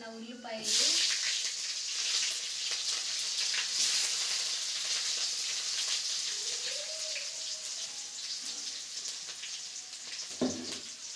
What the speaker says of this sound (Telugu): నూనె బాగా వేడెక్కినాక ఆవాలు వేసుకోవాలండి